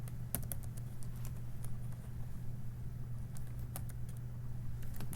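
Light, quick keystrokes patter on a computer keyboard while entering data in a spreadsheet, faint and irregular over a steady low hum, with no voices.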